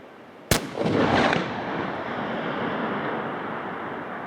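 A single sharp rifle shot from a .375 CEB bullet fired at long range (2050 yards), a loud crack followed by a rolling, fading echo over steady wind noise outdoors.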